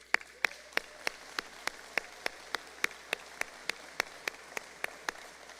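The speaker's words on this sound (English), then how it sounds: "please join me now in a round of applause for them" Even, steady claps sound at a brisk regular beat through a graduate commencement ceremony, honoring the graduates' family and friends. They are crisp and moderately near over quiet room tone, with no speech.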